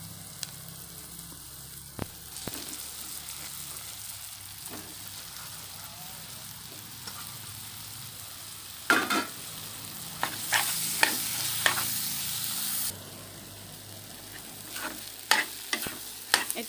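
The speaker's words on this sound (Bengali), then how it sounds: "এটা আমি লাল লাল করে ভেজে নিব আলুটা" Boiled potatoes fry in a pan and get stirred, a low steady sizzle broken by scraping strokes and clattering spatula hits that grow busier and louder toward the end, with no talk.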